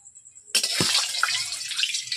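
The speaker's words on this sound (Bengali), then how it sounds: "আমি তেল ঢেলে নিচ্ছি।" Cooking oil pours into a pan while making vegetable chops, starting abruptly after a quiet moment as a close, continuous splashing liquid stream that runs to the end.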